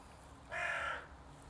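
Magpie giving a single harsh, raspy call lasting about half a second, fairly faint against a steady background hiss.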